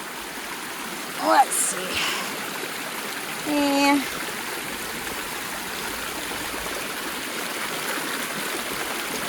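Stream water flowing at a flooded trail crossing on the Appalachian Trail in incessant rain, a constant broad rushing wash heard close, with a person briefly speaking and a couple of short sounds over it.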